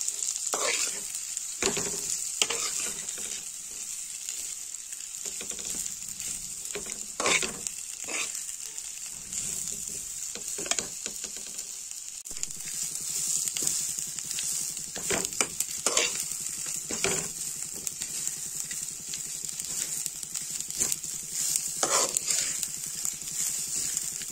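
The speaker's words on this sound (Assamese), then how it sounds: "এয়া চাউলখিনি ভাজি আছোঁ এনেকৈ ধুনীয়াকৈ মই দুই তিনি মিনিটমান সময় ভাজি থাকিম" Rice fries in ghee in a pan for basanti pulao, a steady bright sizzle broken by repeated sharp scrapes and taps of a spoon stirring, close and with no talk.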